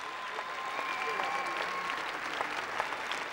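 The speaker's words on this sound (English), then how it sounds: "The crowd really enjoying this." An arena crowd at an international Latin dance competition in St. Petersburg, Russia applauds steadily, a dense wash of clapping heard from a distance with faint sustained tones and scattered louder claps over it.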